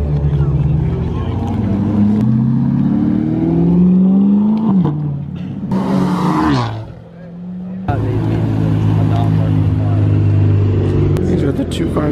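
A Chevrolet Corvette C8 sports car passes on a Florida highway at night amid street racing, its engine roaring loud and steady with a rising pass and a brief dip, under the noise of the filming car.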